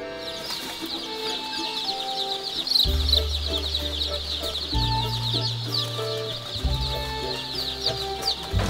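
Chickens cluck and murmur inside a large poultry house holding tens of thousands of birds, a dense, close chorus of overlapping clucks over the steady hum of ventilation machinery, with no talking.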